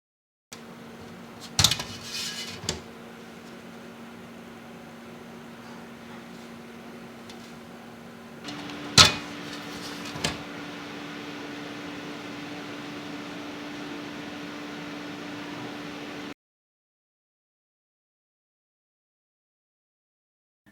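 Scythe Fuma 2 CPU cooler fans spinning at 1500 RPM, a steady broadband whoosh with a faint tonal hum, heard close up and rising in level partway through, with a few clicks before cutting to silence.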